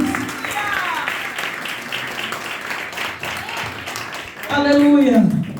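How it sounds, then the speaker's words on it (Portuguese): A church congregation in Braga, Portugal, claps steadily through a thanksgiving service while a voice speaks over it, with a louder swell of sound near the end. "Dê uma salva de palmas para Jesus."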